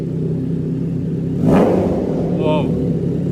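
Triumph Trident 660 motorcycle engine with a loud steady idle, one quick throttle blip rising and falling near the middle, then a faint short squeak before idling on.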